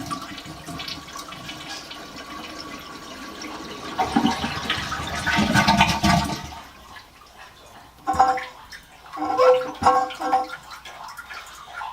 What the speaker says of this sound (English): First I flush the tank.